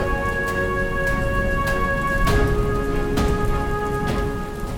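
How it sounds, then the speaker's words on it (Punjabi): Rain falls steadily at night in a Punjab village, a loud, even patter with a faint constant hum underneath and no voices. "ਰਾਤ ਆ ਗਿਆ ਮੀਂਹ"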